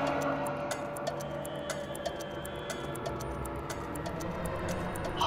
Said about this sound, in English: Do you hear my watch ticking?